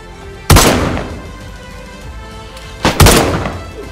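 Two loud, close gunshots ring out in DayZ, one early and one about two and a half seconds later, each with a sharp crack and a trailing echo over quiet outdoor ambience.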